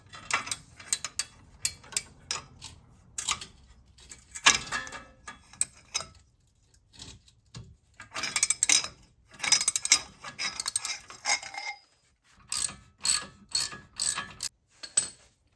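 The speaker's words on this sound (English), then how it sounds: "use a jack handle. Put it on the end of the wrench. It gives you more of a braking power." A ratchet wrench lengthened with a jack handle works on a BMW E36 convertible, giving bursts of quick metallic clicking with short pauses between them, close and fairly quiet.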